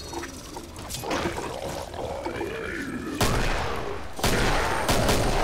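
Rapid automatic gunfire from a chain gun in the video game Killing Floor, a sustained loud rattling burst that grows heavier in the last two seconds.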